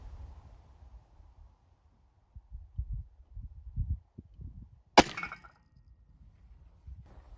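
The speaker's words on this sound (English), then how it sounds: "And I'm shooting at the closest logs." A single sharp crack from a Winchester Model 1886 lever action carbine in .45-90 fired outdoors at logs, standing out against soft low rumbles and handling noise before and after.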